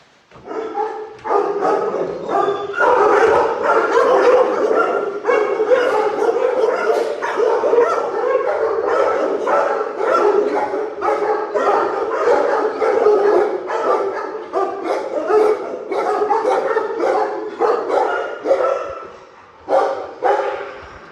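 A chorus of dogs barking and yipping continuously in a male kennel, many voices overlapping in a loud, echoing space, with occasional whimpers.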